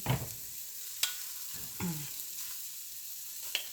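Beef shanks browning in oil in a pan for a spiced stew: a soft, steady sizzle with a few sharp clinks and scrapes as the meat is placed and moved, fairly quiet overall.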